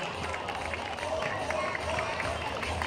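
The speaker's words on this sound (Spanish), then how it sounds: "Recibámosle con un fuerte aplauso." Steady applause from a crowd welcoming a municipal council member at an opening ceremony, a dense continuous patter of clapping at moderate distance with voices mixed in.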